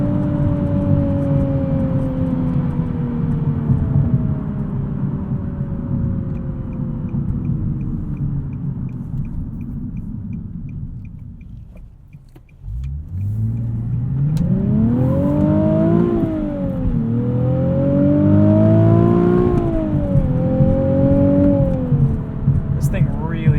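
A 2020 Nissan 370Z Nismo with a six-speed manual revs loud and close: a long drone falls, dips during a shift, then climbs again with sharp blips on the downshifts.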